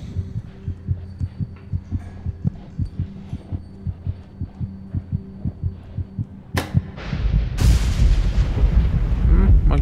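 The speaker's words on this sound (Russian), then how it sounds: "Окей, гроза." Thunder during a storm in the horror video game Among the Sleep, a loud rolling rumble that breaks in after a run of soft regular thumps, like a ticking clock or heartbeat.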